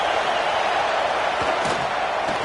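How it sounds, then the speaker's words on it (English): A packed stadium crowd at a Tennessee vs Georgia college football game keeps up a dense, steady roar that stays loud and unbroken throughout, with no clear voice standing out. "this crowd is fired up. Listen to this noise here."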